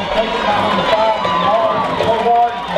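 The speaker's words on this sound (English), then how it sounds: "The Huntington crowd's been relatively quiet tonight, but now they've found the cause to cheer for" A football crowd at a Huntingdon game cheers in a broad sustained roar from the stands, heard at a distance and mixed with noise.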